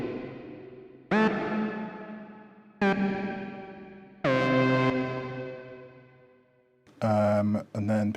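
Guitar or synth notes played through a Meris MercuryX reverb pedal with a pitch-down effect, four separate struck chords or notes, each swelling into a long, dark, shimmering reverb tail that slowly fades before the next.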